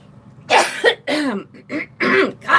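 Repeated coughing and throat clearing from one person, several harsh bursts in a row with short gaps, close and fairly loud, no talking.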